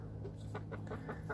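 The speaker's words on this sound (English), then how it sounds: "my little relaxing chickens." Backyard chickens cluck softly in a series of short, low calls over a steady hum of farm background noise, fairly close and without talking.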